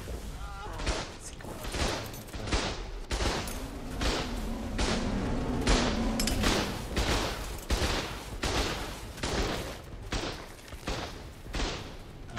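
A turret fires in the video game Ark, a dense run of sharp, loud shots in rapid bursts lasting throughout, with players talking over the gunfire.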